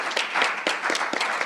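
Scattered audience clapping at a music and labour conference panel discussion, a brief burst of claps with a few sharper individual hits standing out.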